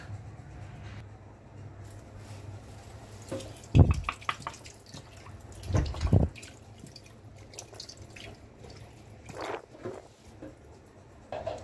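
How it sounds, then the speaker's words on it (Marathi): Tap water runs and drips into a sink as potatoes are rinsed, with a few louder sloshing, squishing bursts as they are handled under the stream. "सगळ्यात पहिला मस्तपैकी बटाट्यांना वॉश करून घेणार"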